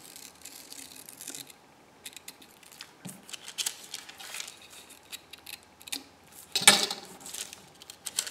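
Scissors snip open a flimsy paper envelope, making quiet, close clicks and rustles with a few sharper cuts, and no talking.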